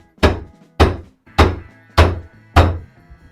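A tool taps a 1932 Ford hot rod suspension part five times at an even, unhurried pace, each hit a sharp, close, solid knock that dies away quickly.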